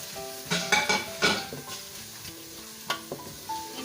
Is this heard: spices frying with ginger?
yes